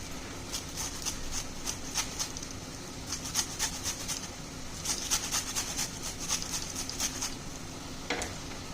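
Thin green peel of a gandharaj lemon rasped on a grater for zest, a faint, quick rhythm of short scraping strokes close by with a soft sharper scrape near the end.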